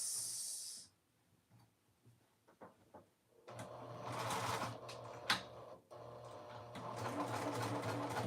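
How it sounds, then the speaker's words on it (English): A sewing machine stitches a seam on a dress, starting after a brief hiss and a few light handling taps, then running steadily and close with a short pause midway before resuming. "Sew this side down at a 3/8."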